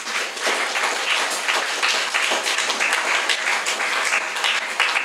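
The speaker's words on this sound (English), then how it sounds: "Boys and girls, I would like you to give them a round of applause." Schoolchildren applaud steadily in a school hall at a jazz presentation, a dense, continuous clatter of many small hands clapping together at even loudness for the whole stretch.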